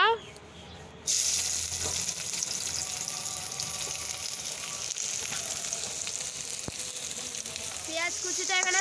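Food fries in hot oil with a loud, steady sizzle that starts abruptly after a quiet moment and continues crackling.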